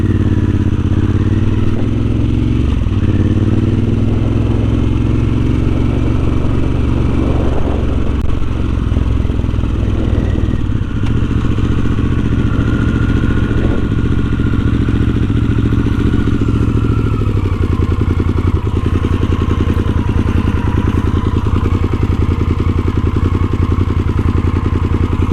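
A Harley-Davidson Sportster S engine rumbles loudly and steadily from the rider's position, with its pitch rising and falling as the motorcycle accelerates and slows, along with some clatter and wind noise.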